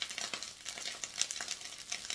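Rice with spices fries in a pan and is stirred, giving a steady, faint sizzle broken by soft, repeated scraping strokes, with no voices.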